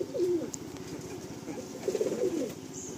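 Big-size Kala Sabuj pigeons in a loft in Kolkata, soft low cooing phrases repeating close by, with faint background noise.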